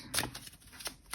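Tarot cards being shuffled by hand, a few quick papery riffling bursts with short gaps between them, close and fairly quiet.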